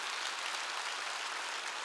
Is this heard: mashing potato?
no